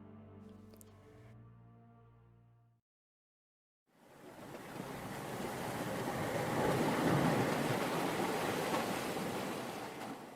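Ocean waves wash against a desolate coastline, a broad, steady roar of surf that swells louder and holds, coming after a brief musical passage and a moment of silence.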